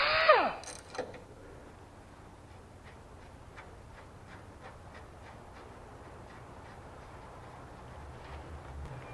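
A wrench loosening a nut on the idler arm of a 1994 Chevrolet Suburban, with a squealing scrape at the start, then steady, faint ratcheting clicks repeating at a regular pace.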